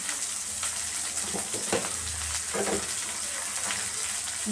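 Curry leaves fry in hot oil in a pan, giving a steady, dense sizzle with crackling pops and soft stirring scrapes throughout, close and fairly loud with no voices.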